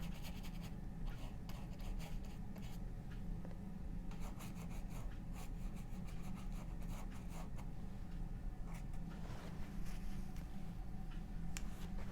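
A small scraper tool wipes oil paint off a canvas in a sheep painting, producing a faint, continuous rubbing and scratching texture with quick repeated strokes.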